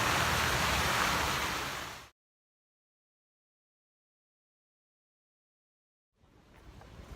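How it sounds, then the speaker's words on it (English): A waterfall at Sforza Castle in Milan pours as a loud, steady rush for about two seconds, then cuts to silence before the rushing comes back faintly near the end. "Here we are in the castle, waterfall is just there."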